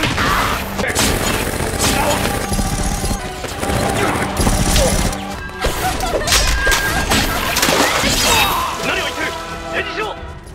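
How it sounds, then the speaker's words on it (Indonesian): An anime gunfight between American, Chinese and Russian special forces fills the scene with dense, loud bursts of rapid gunfire, crashes and impacts that continue almost without a break. "pasukan khusus Amerika, Cina, dan Rusia yang sedang adu tembak"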